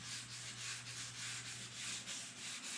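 Hand sanding with sandpaper on the body of a 1935 Chevy sedan during paint prep, a soft, even rasp repeating in quick regular strokes, close and alone.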